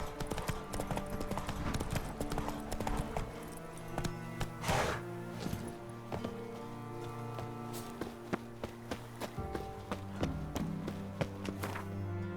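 Roach, a horse in The Witcher 3, runs with hooves clip-clopping in a steady rapid patter under a loud layered music score, with sharp accents scattered throughout.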